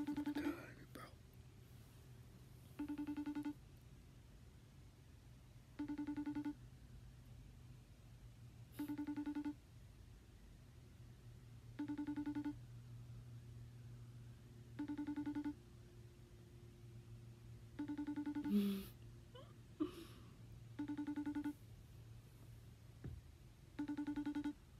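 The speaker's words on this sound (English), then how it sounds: "She's calling back, bro." A phone ringtone repeats as evenly spaced, identical tonal bursts about every three seconds, faint and close, with a quiet voice murmuring in between.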